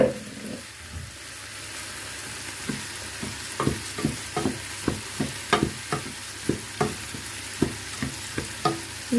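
Rice crackles and sizzles as it fries in oil in a pot, with a soft frying hiss broken by a regular run of sharp scraping strokes from a spoon stirring it. Close and fairly quiet, with no voices.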